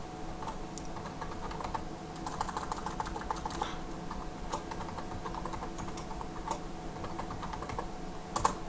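Typing on a computer keyboard to enter a password while setting up a user account on a Windows Server 2008 machine, with steady quiet key clicks in an irregular patter throughout, close and alone.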